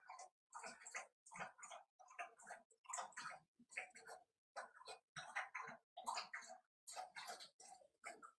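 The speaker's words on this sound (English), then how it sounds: "that dog drinking the shit out of that water" Dog lapping water from a bowl, a close, steady series of rhythmic wet laps with brief pauses between bursts.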